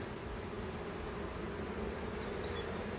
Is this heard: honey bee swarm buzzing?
yes